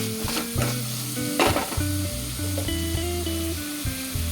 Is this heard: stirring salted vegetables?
yes